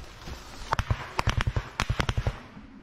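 Small arms gunfire in the fighting around Bakhmut and Soledar, a rapid burst of about fifteen sharp cracking shots in an uneven rhythm, fairly close and distinct against low background noise.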